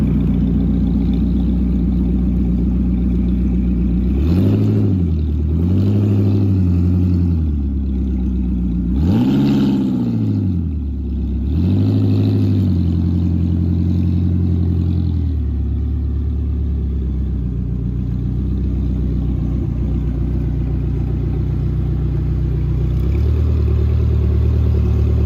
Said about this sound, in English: Friends, it's time to check roar of V8 engine of Gemera.